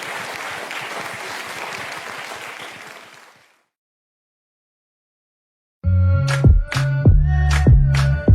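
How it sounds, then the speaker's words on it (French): Audience applause follows a live piano-and-voice performance of a French pop song, loud and dense for about three seconds before fading to silence, then piano chords enter. "Ça s'applaudit s'il vous plaît"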